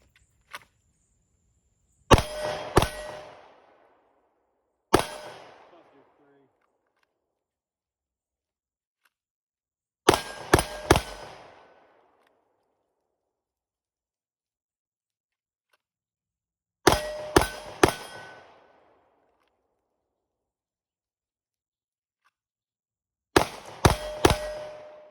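A Sig P365 pistol fires in quick bursts of two or three sharp reports, plus one single shot, with short echoing tails and silent pauses between strings.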